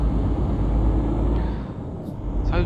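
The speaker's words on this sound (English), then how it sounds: "This is not a bad pulling little truck, actually, to be fair to it." A truck engine rumbles steadily while driving in Euro Truck Simulator 2, a low continuous drone, loud and close, with a brief higher hiss near the end.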